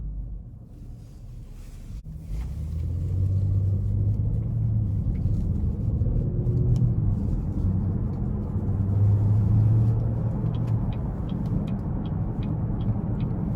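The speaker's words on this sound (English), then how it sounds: "And this car really does have really good acceleration." A 2020 Chevrolet Impala 1LT sedan with a 6-speed automatic accelerates on the road, heard from inside as a steady low engine and road rumble that swells smoothly and holds.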